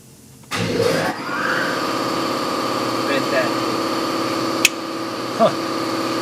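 An air compressor runs steadily in a workshop, a constant mid-pitched mechanical drone that kicks on early and continues throughout, with a sharp click and brief clatter later and people talking over it.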